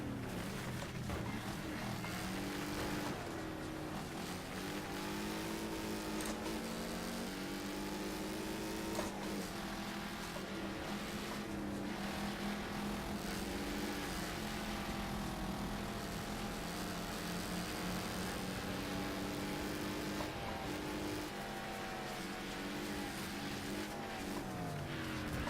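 Race car engines roar steadily throughout a Wreckfest race, with several cars revving and shifting gears in a dense, continuous pack, loud and close with occasional tire squeals and no talking.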